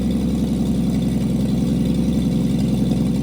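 A 1970s GMC or Mustang engine idles loud and steady with its exhaust removed, a continuous low throbbing rumble right up close, cold and running on thick oil.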